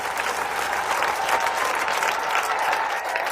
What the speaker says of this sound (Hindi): संजीव सर के लिए जोरदार तालियां दोस्तों।